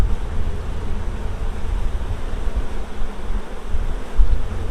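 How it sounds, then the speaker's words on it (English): Honey bees buzz around a swarm, some carrying pollen, a steady dense hum with low rumble that fills the whole stretch without pause and no voices. "There's even bees with pollen on their feet."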